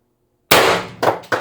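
A single loud, sharp shot from an IntruBuster Gen 2 CO2 air gun, followed by two quick, fainter impact echoes.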